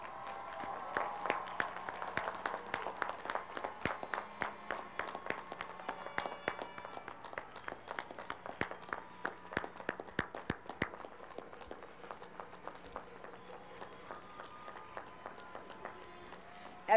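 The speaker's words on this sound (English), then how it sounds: "well-deserved round of applause" A graduation audience at a college commencement ceremony claps in a dense, sustained round of applause that fades gradually toward the end, heard from a distance in a large hall.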